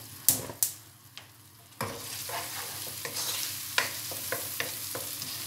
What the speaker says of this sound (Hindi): हम इसे अच्छे से मिक्स कर देंगे।